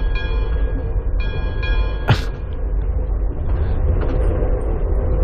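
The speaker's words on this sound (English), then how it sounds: "The clacking of the linkage between cars." A sleep sound machine plays a recorded train: continuous rolling rumble of rail cars with a rhythmic clacking of the couplings between cars, plus a bright bell-like tone and a sharp metallic clank partway through.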